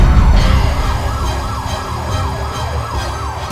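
A loud ambulance siren wails in repeating rising and falling sweeps over the rumble of road traffic, close by.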